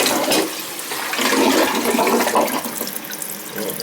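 A repaired toilet that had kept running every ten minutes flushes loudly and nearby, a continuous rush of water swirling and draining over several seconds with no talking.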